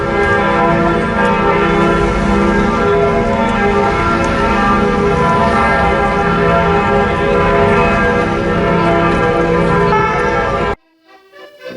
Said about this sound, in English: When we arrived, it was bell ringing time.